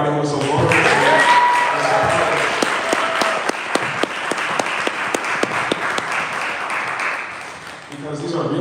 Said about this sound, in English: Clap it up for everybody who was so vulnerable.